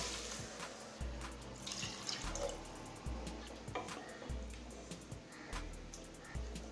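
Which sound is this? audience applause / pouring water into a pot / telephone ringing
pouring water into a pot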